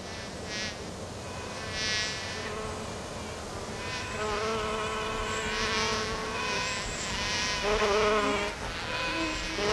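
Honeybees swarm around backyard hives, a dense close buzzing drone with individual bees whining past in rising and falling tones, loud and continuous without any talk.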